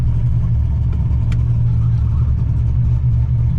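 An LS-swapped Nissan 300ZX drives along with a loud, steady low engine drone and road rumble inside the car and no talking.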